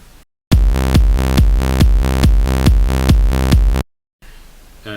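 Loud electronic music pumping rhythmically, sidechained with Peak Controller in FL Studio, its volume ducking 70% on each steady kick drum beat for a few seconds, then cutting off.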